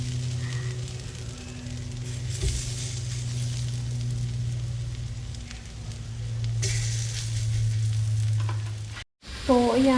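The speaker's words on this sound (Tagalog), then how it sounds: "Fry na natin. Low fire lang. Yan, mainit na ang ating kawali." Hopia pastries fry in a pan over low heat, giving a steady close sizzle with soft crackles and a low hum beneath, broken by a short silence near the end before a brief rise of clatter.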